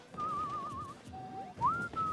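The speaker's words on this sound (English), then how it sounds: "My co-commentator is whistling." A commentator at a Smash Ultimate tournament stream whistles a wavering melodic tune in two phrases, clear and steady over a continuous hum of crowd and game noise.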